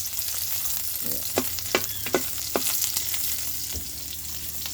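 Pork sizzles and renders its fat in a pan, a steady hiss of frying with several sharp utensil clicks and taps against the pan.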